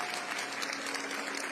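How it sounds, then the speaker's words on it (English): A church congregation applauds at the Gloria during an Umbrian Easter procession, producing a dense, continuous wash of many hands clapping together at a steady level. "And everybody applauds."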